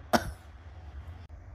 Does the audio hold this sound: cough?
yes